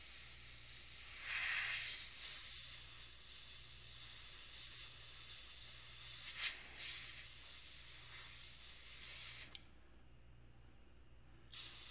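Airbrush spraying olive green paint onto a scale model, a steady close hiss with several louder bursts, cutting off briefly near the end before resuming.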